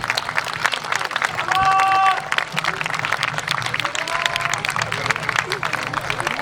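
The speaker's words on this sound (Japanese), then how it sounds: "もう一度大きな拍手をお願いいたします。" Crowd applauding Kasumiren's Awa Odori dance troupe at an outdoor festival in Futakotamagawa, a broad outdoor clapping wash with chatter mixed in and a brief tonal announcement sound partway through.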